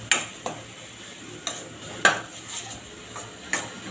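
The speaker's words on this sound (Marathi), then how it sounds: "लसूण अद्रकचा पेस्ट आपल्याला छान इथे हलवून घ्यायचं आहे" Ginger, garlic and coriander paste being stirred and fried in a pan for egg masala: a utensil scrapes and taps against the metal pan in several sharp clinks at irregular intervals, over a soft, quiet sizzle.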